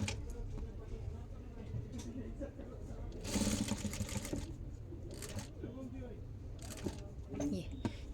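A sewing machine stitches cloth in faint short bursts against a quiet background, with a few sharp clicks between runs.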